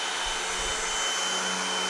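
A Hoover WindTunnel MAX bagged upright vacuum cleaner (model UH30600), a budget machine, runs steadily and loudly, its broad motor whoosh holding even throughout with no voices.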